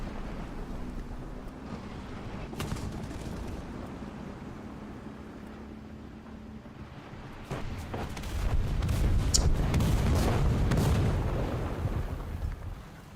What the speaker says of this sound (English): Come on, get killed by the artillery